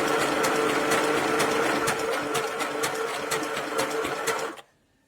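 A sewing machine runs a zigzag stitch through T-shirt yarn fabric, a steady close mechanical whir with rhythmic needle clicks for over four seconds before stopping abruptly.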